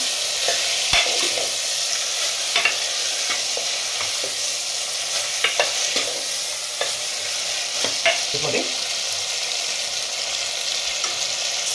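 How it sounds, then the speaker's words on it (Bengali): Chickpeas stir-fried with spices in a pan: constant close sizzling with repeated spatula scrapes and stirs at irregular intervals, no voices. "এবারে আমি ছোলাটা দিয়ে দিচ্ছি ভালো করে মশলার সঙ্গে কষিয়ে নিচ্ছি"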